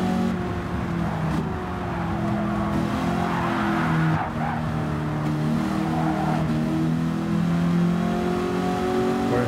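A 1971 Ford Mustang Mach 1 in Gran Turismo 7 revs and accelerates hard, its loud V8-style engine drone steady and close, with tire squeal layered over it throughout.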